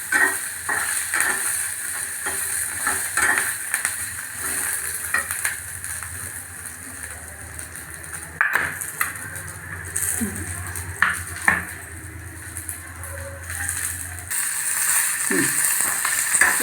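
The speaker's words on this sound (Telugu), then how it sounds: "నెక్స్ట్ వచ్చి వెల్లుల్లిపాయలు అండి. కాసేపు వేగాలండి." Garlic frying in a pan for a tomato and fenugreek-leaf chutney, a steady close sizzle with hiss and occasional stirring scrapes, continuing throughout with no talk.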